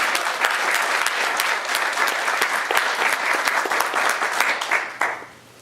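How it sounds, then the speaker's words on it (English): A crowd claps in sustained, lively applause that fills the space for several seconds before quickly dying away. "Could we have a nice round of applause for all these folks?"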